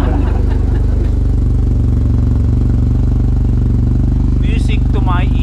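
A Yamaha T-Max scooter-style motorcycle engine runs steadily at idle, a loud even thrum throughout with a brief chirp near the end and a voice over it.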